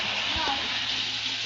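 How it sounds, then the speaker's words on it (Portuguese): Loud, steady rush of running water from a tap nearby, a broad continuous hiss filling the whole clip with a brief voice sound underneath. "se tiver algum barulho aí forte aí, velho, é a torneira aqui"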